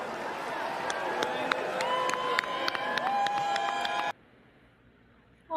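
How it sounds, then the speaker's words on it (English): A packed Republican National Convention hall erupts in loud, dense crowd noise with booing and shouting during the state vote roll call, then cuts abruptly to near silence. "Well, he got booed first"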